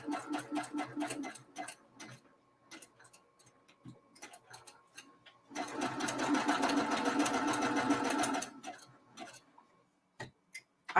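A semi-industrial sewing machine with a steel case pieces quilt fabric, starting and stopping in short rapid bursts before a sustained stretch of fast, rhythmic stitching, then a few more isolated clicks.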